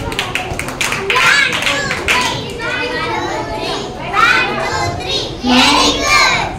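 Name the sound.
children clapping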